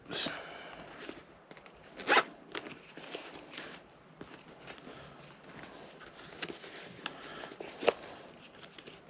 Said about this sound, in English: Check the zips.